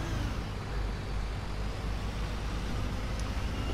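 A bus engine in the video game Bus Simulator 21 hums and rumbles steadily at close range, a continuous low drone with no talking.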